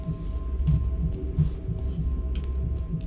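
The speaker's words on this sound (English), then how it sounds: "I can hear my own heartbeat" Slow, steady heartbeat thumps pulse in a low double rhythm beneath a faint hum during horror gameplay of Welcome to Kowloon, close and muffled, with no talking.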